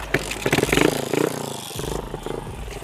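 A motorcycle with a PE carburettor revs while the throttle is held, giving a loud, close engine note that rises and pulses in bursts with clattery harmonics before settling back toward idle.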